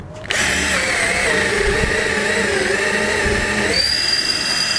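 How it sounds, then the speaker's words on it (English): A power drill whirs steadily at close range, its motor pitch wavering slightly before shifting higher near the end. "get my drill."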